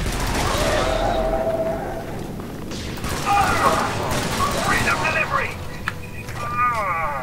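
Gunfire and explosions in the co-op shooter game Helldivers, dense bursts of shots and booms running throughout, with players talking over the combat.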